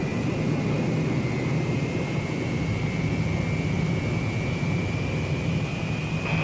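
A Boeing B-47 Stratojet bomber powers up for its takeoff roll, its jet engines giving a continuous loud, close roar with a steady high whine running through it and no voices.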